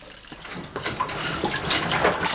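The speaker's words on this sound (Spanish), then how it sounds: "A esta tarea permanente de verter agua hirviendo con el cazo se le denomina caldeo." Boiling water poured from a ladle onto olive paste in a traditional family olive oil mill, a continuous close splashing and trickling pour that stays steady throughout.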